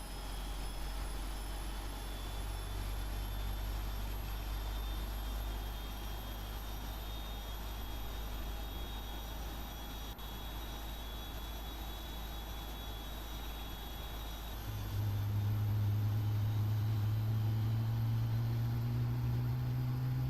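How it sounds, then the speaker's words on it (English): GE90 jet engines spool up on a PMDG 777-300ER in a flight simulator. A steady whine and rumble hold, then a deeper roar swells louder near the end. "we can start getting the thunderous roar of these GE90s"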